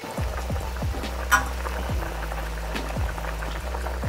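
Liquid with pepper and sauce, for cooking razor clams, boils steadily in a pan with a constant bubbling hiss and regular low pops, and no one speaks.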